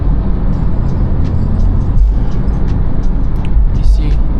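A car overdue for its oil change by 1,400 miles drives on a road and accelerates, producing a loud, steady, close engine and road roar throughout.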